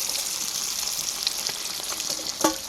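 Oil sizzles and crackles steadily as catla fish fries in a pan, with a few light clinks of a utensil near the end.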